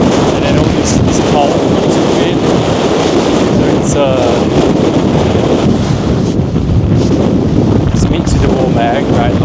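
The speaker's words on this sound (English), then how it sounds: "there, great lot of wind" Strong gusts of wind, reportedly around 50 mph, roar across the exposed top of the Old Man of Coniston, loud and constant with heavy buffeting rumble against the microphone and a voice speaking faintly beneath.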